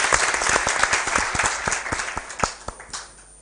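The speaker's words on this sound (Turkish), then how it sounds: "Denetim başkanımız Haydar Kaygusu'na da bir alkışla onu alalım mı" Audience applause at a Turkish village gathering, a burst of many hands clapping that starts loud and thins out toward the end, with scattered individual claps standing out.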